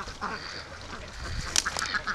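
Ducks quack repeatedly in a muddy creek, several birds calling at once in short honking bursts, fairly close and overlapping, with a flurry of sharper calls near the end.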